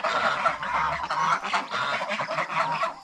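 Farm turkeys call in a run of honking, gobbling bursts, several overlapping voices repeating in quick irregular succession, fairly close and unaccompanied by talk.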